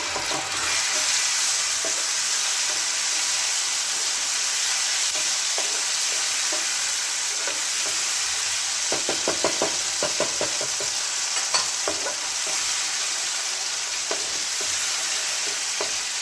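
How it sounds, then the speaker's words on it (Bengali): Chopped garlic and medium tomato paste sautéing in a pan, a loud steady hiss of frying with faint intermittent stirring taps, close and unbroken, no speech. "টমেটোটা দিয়ে ভালো করে কষিয়ে নিতে হবে যতক্ষণ না টমেটোর কাঁচা গন্ধটা চলে যাচ্ছে"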